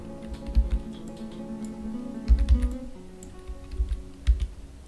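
Computer mouse clicking during a Dwarf Fortress game: quiet, irregular clicks and taps, some in quick clusters, over a low steady electronic hum, with no speech.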